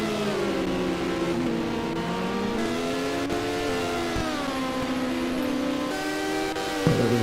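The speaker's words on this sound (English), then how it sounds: "There's one of the first Group H cars." A Group H hill climb race car at the European Hill Climb Championship round in Ilirska Bistrica drives by with a steady, loud engine note that rises and falls through gear changes, close and continuous throughout.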